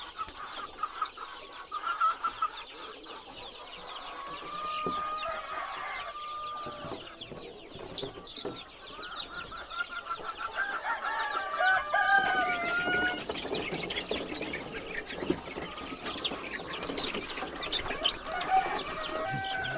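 Chickens at an Indonesian poultry farm selling birds before Lebaran cluck and crow in overlapping calls, some near and some farther off, against a low barn hum with no talking.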